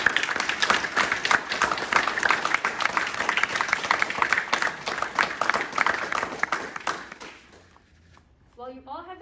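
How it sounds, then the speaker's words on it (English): Members of a squadron at a US Air Force Academy appointment event get a round of applause, a lively, crowded clapping that rolls on for several seconds, then fades out, and a voice begins speaking at the end. "So let's please give a round of applause for just all of your hard work and dedication"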